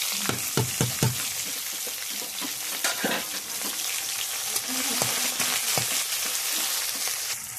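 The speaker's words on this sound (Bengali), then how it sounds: "পেঁয়াজগুলো একটু ভাজা ভাজা করবো।" Chopped onions frying in hot oil with spices in a wok, giving a loud, steady sizzle and crackle broken by frequent scraping stirs of a spatula.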